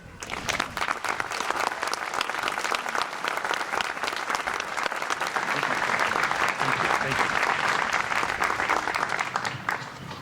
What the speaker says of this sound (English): And please join me in welcoming Mr. Christopher Hickey.